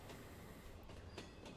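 Short train of about five cars rolling along railway tracks in the video game Echo, a steady rumbling wash with faint clicks and a brief high wheel squeal, heard alone.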